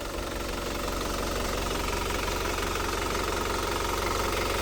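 A Panther LS turbo diesel engine runs steadily at idle with a dense, knocking mechanical clatter. It is close and continuous for several seconds, with no talking.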